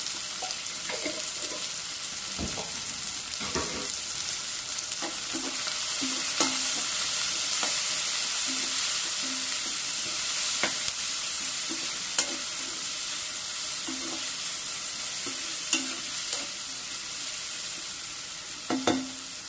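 Onions sautéing in a pan with salt and turmeric, a soft steady sizzle throughout with frequent spoon scrapes and light clinks as they are stirred.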